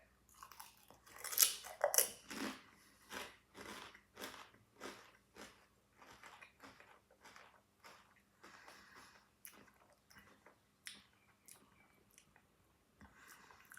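Close-up biting and chewing of a food item during a food tasting, an initial crunchy bite followed by a steady rhythm of moist chewing that gradually fades over several seconds, with no speech.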